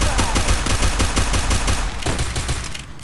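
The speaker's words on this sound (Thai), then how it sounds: "เริ่มเกมมาก็ยิงกันเลยทุกคน" Rapid automatic gunfire from the mobile shooter game Free Fire rattles in quick, even bursts, loud and close, continuing for about three seconds with no talk over it.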